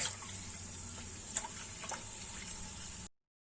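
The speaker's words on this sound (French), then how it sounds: "On va continuer à laver à peu près 3 fois notre riz jusqu'à que l'eau devienne claire." Sushi rice is washed in water, giving a soft, steady sloshing and trickling with a few small splashes. It runs for about three seconds, then cuts to silence.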